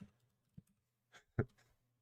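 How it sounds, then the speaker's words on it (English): A few sparse, soft keystrokes on a computer keyboard during a live coding session, isolated clicks separated by quiet gaps. "Can't believe I'm typing this all out."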